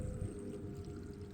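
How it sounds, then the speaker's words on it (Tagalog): Water pours into a cooking pot for chicken tinola, a steady, soft splashing and gurgling stream close by with no talk over it. "ato ni siya butangan og tubig dayon"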